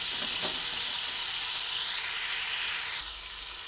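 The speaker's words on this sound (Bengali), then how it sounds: "পেঁপেটা ভেজে নেওয়ার সময়" Diced papaya frying in hot oil with turmeric powder, a loud continuous hissing sizzle close by, easing slightly toward the end, with no voices.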